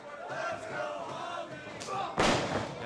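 A wrestling crowd roars in support of Javier at an FTW Wrestling show, a sustained mass of cheering voices that swells, then breaks into a sudden loud burst near the end.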